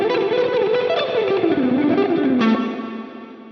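Overdriven electric guitar played through a Line 6 Helix reverb, a fast lead line with notes smeared into a long wash of reverb that swells and then trails off, loud and alone.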